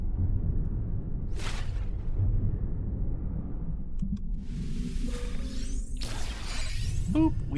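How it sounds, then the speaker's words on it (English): Sea glass shatters in a space-exploration video game, a sharp crystalline break followed by whooshing and rumbling effects, then a second bright burst near the end. "I just don't want to accidentally break the sea glass by hitting it with this thing."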